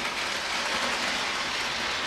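Steady broadband rushing and rattling of an OO gauge model train with coaches rolling along track, continuous and fairly close, with no voices.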